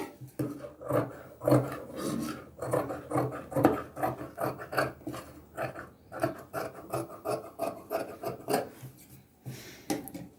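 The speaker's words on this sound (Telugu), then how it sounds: "ఇప్పుడు ఈ ఎక్స్ట్రా పీస్ అంతా కట్ చేసేసుకుందామండి" Scissors trimming extra blouse fabric, a series of close, rhythmic rasping snips and rubbing crunches repeating about every half second, steady and moderately loud, with no talking.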